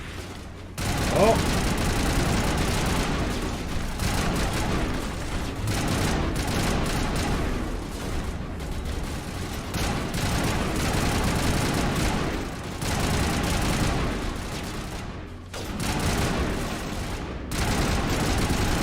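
A newly acquired gun firing in Mass Effect, sustained rapid bursts of gunfire with heavy impacts, loud and continuous across the stretch, with a brief exclamation and some talk mixed in.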